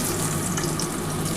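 Pieces of katla fish frying in hot oil in a pan, a dense, steady sizzle heard alone and fairly loud.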